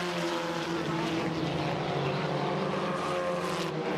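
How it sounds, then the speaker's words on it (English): Formula Ford race cars racing at Mosport during a vintage racing festival, heard as a continuous loud engine drone at close range with a steady buzzing tone, no talk. "The real battle of the race is shaping up at the front of the Formula Ford field, where Kevin Smith in the Titan Mark VI"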